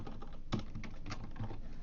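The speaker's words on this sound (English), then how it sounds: "Then type whatever." Quiet, quick clicking of computer keys, typed in short uneven bursts while entering C# code at a desk, with no talking over it.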